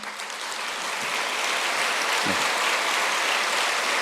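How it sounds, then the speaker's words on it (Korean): A church congregation applauds continuously to welcome visitors, a dense, even wash of clapping that holds steady throughout with no talking. "예수님의 이름으로 환영하는 큰 박수 하도록 하겠습니다"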